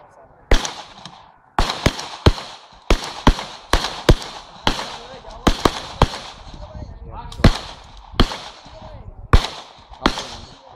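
Gunshots at the Tha Sawang shooting club range crack out loud and close in quick, uneven strings of a dozen or more reports, with voices talking between the shots.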